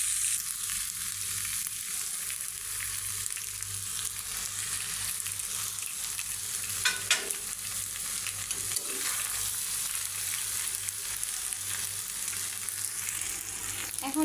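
Macaroni spice mix hits a hot pan and sizzles with a steady, bright crackle of frying that holds throughout. A few faint scrapes and clinks of stirring come through midway.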